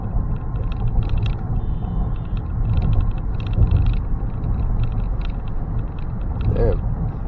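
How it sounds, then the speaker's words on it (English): Ford Explorer EcoBoost engine straining to gain speed while losing power, heard from inside the cabin as a steady low rumble with faint mechanical whine and occasional rattles. "It kind of seems like the car is like struggling a bit, you know? Like it's straining"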